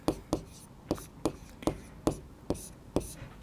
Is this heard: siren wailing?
no